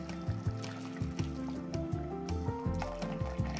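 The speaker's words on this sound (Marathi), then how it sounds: "आता यामध्ये गरम केलेलं पाणी घालते" Hot water pours into a pan of urad dal, a close, quiet gurgling fill with uneven splashy bursts running through the whole stretch.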